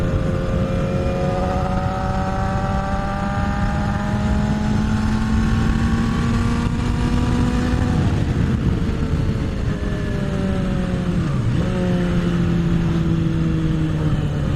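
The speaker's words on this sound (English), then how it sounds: "I bought my bike with this this Jardine GP1, and it had the catalytic converters removed." A motorcycle with a Jardine GP1 exhaust and its catalytic converters removed, engine droning loud and close throughout with steady pitch rising and shifting between gears.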